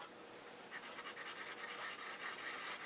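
Skew chisel for woodturning rubbed in small circular strokes on a 600-grit diamond hone, a soft, steady rasping scrape that starts after a brief quiet moment and continues close up with no talking.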